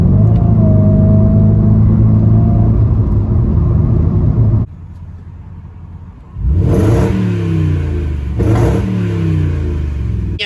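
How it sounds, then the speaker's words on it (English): A Jaguar XJR X350 V8 at a garden-centre car show rumbles at a deep, loud idle, dips briefly, then barks into two quick throttle blips that rise and fall, heard up close. "V8 has that lovely burble"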